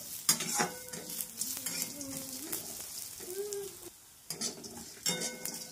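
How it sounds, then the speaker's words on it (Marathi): Coriander seeds and lentils are dry roasted and stirred in a pan, producing a continuous scratchy rattle and light sizzle, with a spoon scraping and clinking against the metal and a brief pause in the middle. "धने आणि डाळ ही मस्त भाजणार आहे।"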